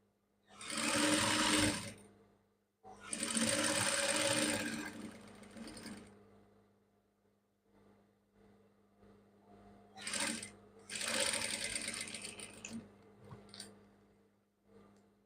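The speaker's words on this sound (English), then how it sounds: "I just continued my sewing now." A sewing machine stitches fabric for a pair of shorts in several loud, rapid runs separated by pauses, close by with no talking.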